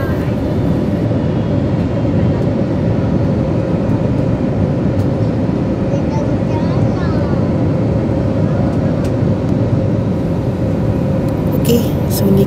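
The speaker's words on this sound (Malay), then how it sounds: "ni kita dah dalam kapal terbang" Steady loud broadband rumble inside an airplane cabin, likely waiting before departure on a trip to Minangkabau country, continuous engine and ventilation drone throughout with faint background chatter.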